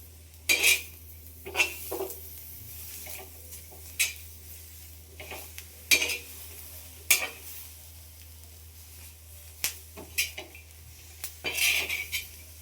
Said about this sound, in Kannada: ಈ ಥರ ಹುರ್ಕೋಬೇಕು ಚೆನ್ನಾಗಿ